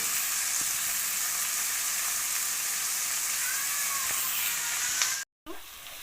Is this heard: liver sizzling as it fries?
yes